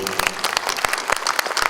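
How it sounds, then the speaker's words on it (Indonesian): Scattered, distinct hand claps from an audience at a marketing festival awards event, a brief burst of uneven individual slaps rather than a dense roar, with a voice briefly underneath. "tepuk tangan untuk"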